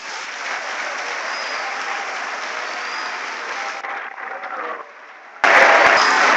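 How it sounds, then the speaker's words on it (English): An audience at an alumni mentorship and career development talk gives a steady round of applause, which dips briefly before surging into a louder, closer burst of clapping. "Let's give them a round of applause."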